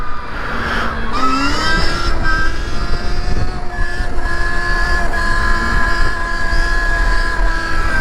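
A Sur Ron electric dirt bike pulls a wheelie uphill, its motor giving a loud, steady whine that climbs in pitch and then holds, over constant wind rumble.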